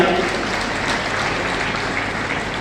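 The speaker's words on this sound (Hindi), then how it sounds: "श्री अर्जुनपुरी गोस्वामी, आपके लिए भी जोरदार तालियां।" A crowd at a Rajmanas Sangh religious assembly in Dhamtari claps loudly for its president, Arjunpuri Goswami. The applause is a dense, continuous wash that eases slightly toward the end.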